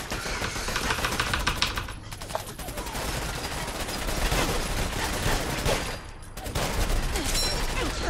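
Machine gun fire in the video game Fallout 4, rapid sustained bursts broken by a couple of short pauses, loud and close with heavy game noise.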